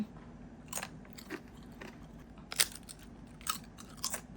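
Crispy Thai pork floss sheet bitten and crunched close up, a series of sharp, brittle crunches spaced irregularly over quiet room tone, with no voices.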